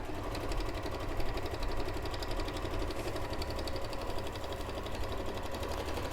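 A sewing machine runs continuously, stitching fabric for jubilee bunting, with a steady close mechanical whir and rapid rhythmic ticking throughout.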